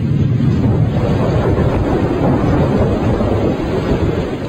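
Heavy rain pours down continuously while deep thunder rumbles underneath, loud and unbroken throughout with gusty wind noise and no voices.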